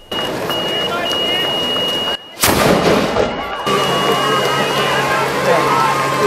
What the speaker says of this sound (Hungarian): Nem sokára a váltók rajtját jelző ágyúszó is eldörrett.